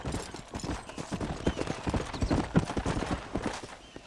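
Horse hooves clip-clopping at a steady trot in the video game Red Dead Redemption, a dense run of hoofbeats with a low rumble beneath, fairly close and continuous.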